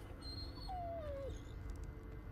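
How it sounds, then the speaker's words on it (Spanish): A dog gives a single thin, drawn-out whimper that slides downward, soft and fairly close over a low rumbling background in the game Blair Witch; no speech. "El perro que ha estado desde el principio con nosotros"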